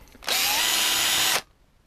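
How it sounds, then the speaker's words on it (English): A power drill bores a 3 mm hole for M3 screws in a DIY camera mount for an Axial SCX10 RC crawler, with one loud, steady whine lasting just over a second and stopping abruptly. "just drilling out to 3mm diameter on the end here"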